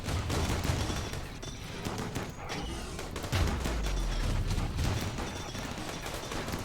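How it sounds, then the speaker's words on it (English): Auto cannons fire in a video game, a rapid run of heavy booming shots, some spaced and some clustered, with deep low-end thumps throughout, fairly distant and mixed with game noise. "Do love the sound of those auto cannons."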